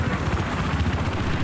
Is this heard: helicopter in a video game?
yes